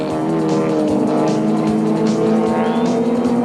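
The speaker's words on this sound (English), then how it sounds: "ahead of teammate Chris Aberdeen as the Rothmans Audis head for the line." Rothmans Audi modified race cars at the Goldfields circuit roar through a corner, a loud sustained engine drone with layered harmonics and a rising pass near the end.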